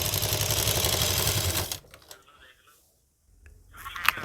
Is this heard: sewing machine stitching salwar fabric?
yes